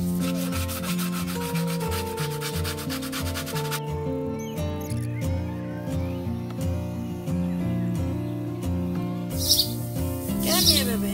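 Rhythmic rasping strokes of sandpaper rubbing steadily over a surface, close by, with tonal music and faint bird chirps in the background.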